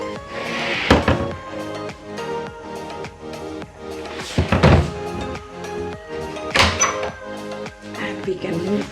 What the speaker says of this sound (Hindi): दरवाज़ा लॉक कर देते हैं.